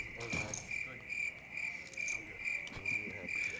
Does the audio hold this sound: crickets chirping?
yes